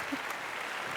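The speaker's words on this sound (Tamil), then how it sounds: "அவங்களுக்கு ஒரு பெரிய கைத்தட்டல் கொடுத்துருங்க" Applause from a stage award-show audience for three daughters, a dense, even wash of clapping filling the whole short moment, moderately loud and without distinct voices.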